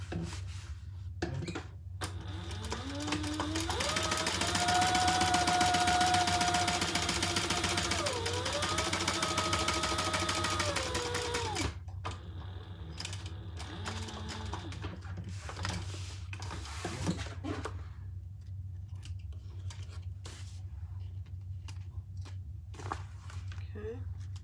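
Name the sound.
sewing machine topstitching a bag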